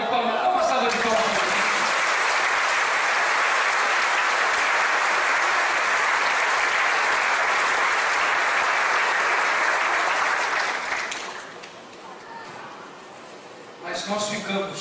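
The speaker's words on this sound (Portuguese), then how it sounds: "dá uma salva de palmas" Sustained applause from a church congregation at a communion service, loud and steady for about eleven seconds before fading, with a brief renewed burst near the end.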